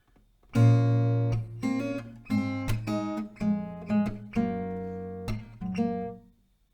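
A plucked acoustic guitar plays a slow melody of distinct notes and chord strikes from a song, clear and close, with no voices.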